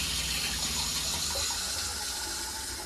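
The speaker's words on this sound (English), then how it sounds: "Turn on the hot water first" Hot water runs steadily from an RV shower during winterizing, a continuous hiss and splash of flowing water that stays loud and even throughout, with no talking.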